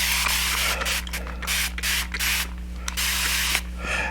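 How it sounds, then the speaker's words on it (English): A spray bottle spritzes in a quick run of short bursts, each a soft hissing puff, over a steady low hum in the background. "I'm going to turn this over and I'm going to spray it again"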